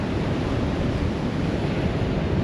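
Constant roar of surf and gusting wind on a Great Ocean Road beach as a storm approaches, loud and unbroken, with wind buffeting the microphone and no voices.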